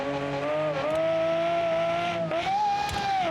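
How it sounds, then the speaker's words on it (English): A modded car in BeamNG Drive roars with a loud, sustained exhaust note, its pitch holding steady, dipping briefly, then climbing again as the engine revs, with faint tire noise underneath. "did you hear that exhaust sound?"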